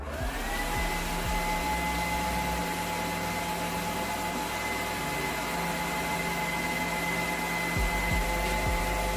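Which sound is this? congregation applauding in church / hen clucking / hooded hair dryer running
hooded hair dryer running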